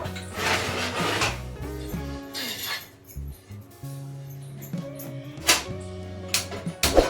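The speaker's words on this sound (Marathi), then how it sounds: "तवा घेते मी आता" A metal tava griddle pan being taken out and handled in a home kitchen while making Gujarati bhakri, with scattered clinks and clanks of metal and glassware over a steady tonal hum.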